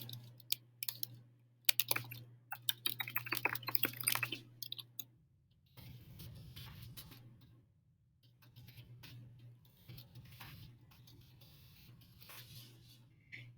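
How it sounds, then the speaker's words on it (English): Bursts of quick computer keyboard clicking come in uneven runs, then pause before softer, sparser typing resumes over a low steady hum. "From there, you can begin typing your ideas."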